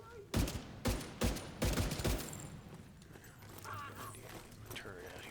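Rapid bursts of turret gunfire from the video game The Division 2, four or five loud clustered volleys in the first two seconds, then fading to quieter background combat noise.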